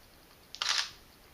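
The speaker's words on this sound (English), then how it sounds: "So that was taken with the built-in flash." A single camera shutter fires once with the built-in flash up, a short close click-and-whir burst standing alone against quiet background hiss.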